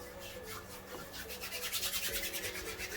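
Hair pre-styler product rubbed between the palms, giving a close, soft, steady swishing rub that repeats in a quick rhythm and grows slightly louder toward the end.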